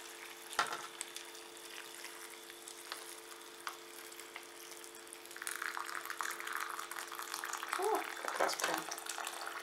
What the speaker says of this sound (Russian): И теперь мы все это заливаем кипятком.